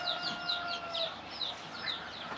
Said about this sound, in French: C'est là où sort les poussins.